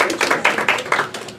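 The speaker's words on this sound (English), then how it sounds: "Round of applause for Joe and Daniel" A small audience at a Keiretsu Academy talk gives a short, sparse round of applause for two speakers, with a handful of distinct claps in an uneven rhythm.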